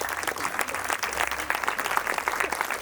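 A standing crowd at a Rudra homa ceremony gives steady, continuous applause to welcome the Swamiji, a dense wash of clapping with no pauses.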